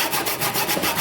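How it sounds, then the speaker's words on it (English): A chisel pares wood flat on a luthier's clamp in quick, rhythmic scraping strokes, loud and close, about seven rasping passes in a steady pulse. "with the chisel also pare it back flat"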